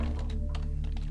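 Quick, close keystrokes on a computer keyboard as a line of text is typed into a Bash terminal, a steady run of light clicks with no talking.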